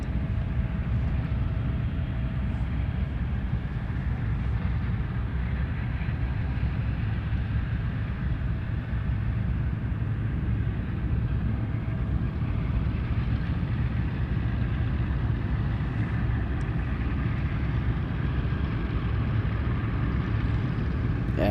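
An airplane taxiing along taxiway Romeo at Ted Stevens Anchorage International Airport in Alaska gives a steady, continuous engine rumble and whine that holds at an even level throughout, with no voices.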